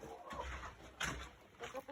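Backyard chickens, including a golden laced Wyandotte hen, cluck softly and intermittently at an egg stand, the faint calls scattered over steady outdoor background noise.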